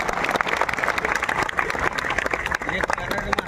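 Dense, sustained clapping from a crowd at a comedy speech in Buldhana, holding steady for the whole stretch with voices mixed into it.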